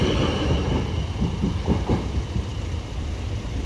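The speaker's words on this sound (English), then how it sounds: "Again, train." A train rumbles past nearby, a steady low roar with faint rhythmic clatter, no voices.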